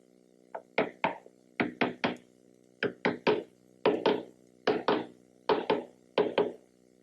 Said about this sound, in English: Carefully tap the patch into place with a scrap piece of wood.